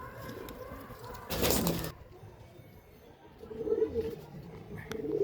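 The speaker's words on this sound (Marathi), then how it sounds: "ही एक कबूतर त्यांनी पकडलेला आहे." Madrasi pigeons coo in low, soft, repeated murmurs, close by. A brief noisy burst like flapping breaks in early, then the cooing resumes more loudly near the end.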